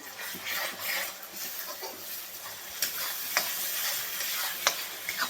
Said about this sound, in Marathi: कांदा टोमॅटो भाजून घ्यायचा आहे व्यवस्थित एकदम आपल्याला